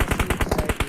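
Rapid bursts of automatic gunfire in the PUBG Mobile battle royale game, fired as warning shots, with about nine evenly spaced loud shots cracking in a steady rhythm across one second, no talking.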